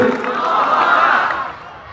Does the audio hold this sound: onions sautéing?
no